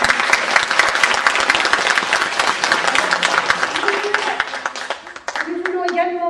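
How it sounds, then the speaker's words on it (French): Audience applause at a community entertainment evening in a town hall, dense steady clapping from a crowd that runs throughout, tapering slightly near the end. "Nous voulons également partager nos applaudissements"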